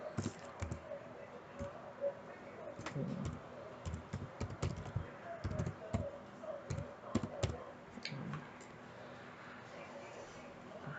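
Typing on a computer keyboard during Revit construction drafting: soft, close bursts of key clicks in uneven runs, with a voice talking over them at times.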